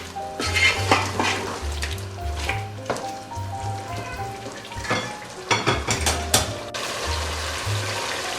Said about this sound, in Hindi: अब हमने इसको बहुत अच्छे तरीके से भूनना है।